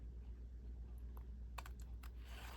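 Microtip scissors snipping through folded paper: a few quick, small crisp cuts clustered near the end, close and faint over a steady low hum.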